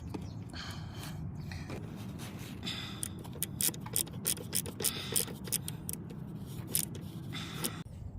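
A screw being tightened onto an engine part during a VVT and PCV valve replacement on a Toyota Camry, with close, irregular ratcheting clicks and metallic taps over a low steady background hum.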